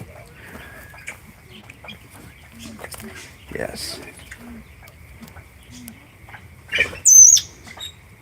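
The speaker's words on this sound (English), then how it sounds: "Birds are getting all excited" Free-range chickens and silver pheasants cluck and call in short scattered bursts, with a sharp squawk near the end and a brief spoken word among them.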